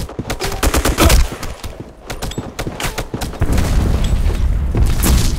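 Gunfire in the online shooter Black Squad, with sharp sniper rifle cracks mixed into dense rapid bursts and booms, loud and close, going on throughout with no talk.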